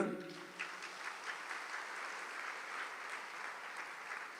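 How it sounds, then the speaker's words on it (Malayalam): A church congregation claps with raised hands during a sermon, a steady, soft round of applause that runs the whole way through at a distance. "ഒന്ന് കൈയുയർത്തി കൈയടിക്കുക"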